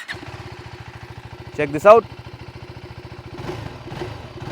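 A KTM 390 Enduro R single-cylinder motorcycle engine idles steadily nearby with an even low throb, while someone speaks briefly over it partway through.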